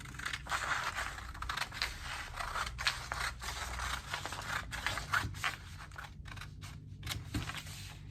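Scissors snip through a paper sleeve pattern in a quick run of close, crisp cuts, with brief pauses toward the end, in a quiet room.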